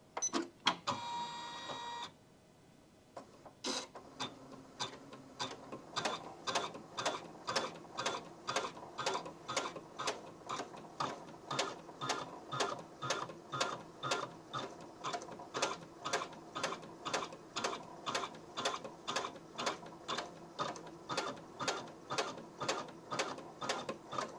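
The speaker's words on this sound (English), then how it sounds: "The machine did a long basting stitch" A Janome sewing machine running a long basting stitch: after a short start, a steady, close mechanical clatter repeats in an even, rapid rhythm for many seconds, with no talking.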